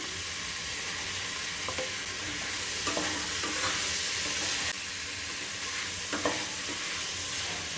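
Vegetables including capsicum and peas sautéing in a pan for brinji rice, with a steady, close sizzle and occasional stirring scrapes running throughout.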